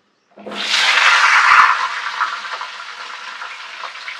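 Papaya, carrot, beans and capsicum hit hot oil in a pan for chicken stew, a sudden loud sizzle that swells and then settles into a steady, softer frying hiss, close and without voices.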